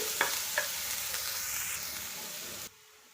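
Chopped onions fry in a hot pan for onion Manchurian, giving a steady, close sizzling hiss with a couple of soft stirring clicks, then cutting off abruptly near the end.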